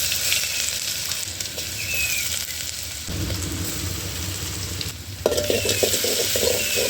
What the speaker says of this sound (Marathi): चला आता हा जो मिरची लसूण आणि जिरे हे वाटलेलं आहे ते मी घेते टाकून.